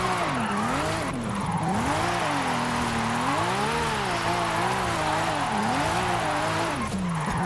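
A car drifting in Forza Horizon 5 on a volcano course, played with a steering wheel: a continuous loud wavering tire squeal over a droning engine that rises and falls through the turns, with no pauses.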